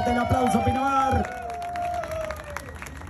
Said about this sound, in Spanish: Fuerte el aplauso, Pinamar.